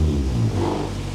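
A Honda Civic with a cheap eBay exhaust, catalytic converter still fitted, revs in one short rising blip, its raspy engine note close and loud with no talking.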